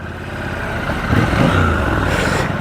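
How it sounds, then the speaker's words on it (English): A Triumph Scrambler 1200XE motorcycle engine runs with a steady low rumble, then gives a brief louder lurch and sputter midway as it stalls, with the engine noise continuing close by. "I stalled the bike."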